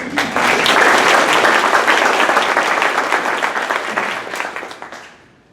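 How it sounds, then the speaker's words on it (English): An audience gives a round of applause at a gathering, loud dense clapping that swells early then gradually thins and fades out near the end. "I'm going to give him a round of applause."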